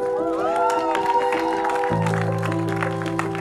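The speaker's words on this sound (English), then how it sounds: "can we have all the journalists out there clap for this journalist turned producer?" Journalists applaud at a music album launch event for a web series, the clapping mixed with steady background music and crowd noise, moderately loud throughout.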